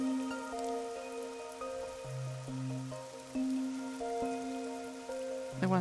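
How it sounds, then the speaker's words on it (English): Steady rain falling in the video game Master Detective Archives: Rain Code, a constant soft hiss running beneath sustained, shifting musical tones, with no voices. "No one knows why the rain never lets up."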